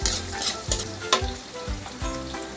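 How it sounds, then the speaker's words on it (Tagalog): Onion and garlic sautéing in oil for lumpiang togue filling, a steady sizzle broken by several scraping stirs of a utensil against the pan, close and fairly loud with no talk. "Nagisa lang muna tayo para bukas to."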